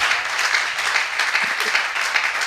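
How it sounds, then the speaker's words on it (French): Studio audience applause for a French television talk show, a steady dense wash of clapping filling the room at moderate loudness with no talk over it. "Je pense qu'on peut acclamer pour ça."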